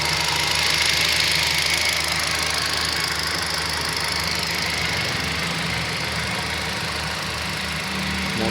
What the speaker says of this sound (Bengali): তার ইঞ্জিনের যে সাউন্ড, সেই সাউন্ডটা আমরা শোনাচ্ছি